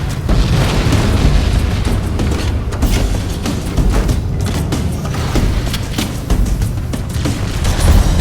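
A rocket blast in Halo: Combat Evolved, heavy booming rumble that fills the whole stretch, loud and continuous with repeated deep surges and crackling debris.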